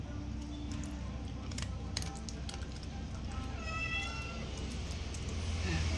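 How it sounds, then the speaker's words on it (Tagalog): A pet cat meows faintly in a home, a few soft cries rising over a low background hum, with a quiet voice nearby. "Narinig mo yon, nag-meow-meow."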